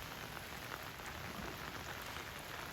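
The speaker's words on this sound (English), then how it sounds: "Plenty of water, plenty of rain" Steady rain falls on a golf course, a constant soft hiss of drops on grass and surfaces, even and unbroken throughout.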